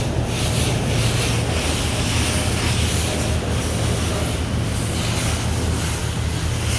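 Spot-free rinse water sprayed down an RV from the top makes a loud, steady hiss and splash, close up and unbroken, with a low hum beneath.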